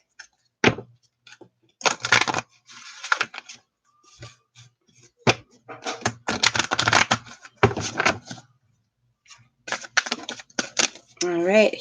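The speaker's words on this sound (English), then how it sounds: "Cards are kind of sticking a little bit. Let's give them a shuffle" Tarot cards that are sticking a little are shuffled close by in bursts of papery riffling and tapping clicks, with brief pauses between bursts and a voice speaking at the end.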